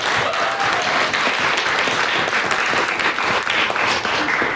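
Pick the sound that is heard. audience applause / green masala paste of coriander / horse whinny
audience applause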